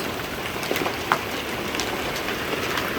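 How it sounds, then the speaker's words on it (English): Marble-size hail pelts down during a storm, a loud, dense, continuous clatter of stones striking surfaces close by with no pause. "I have never seen hail, oh my, this big."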